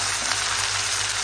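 Tomatoes hitting a hot frying pan give a steady, dense sizzle of frying that holds at an even level throughout, close and loud, with no talking.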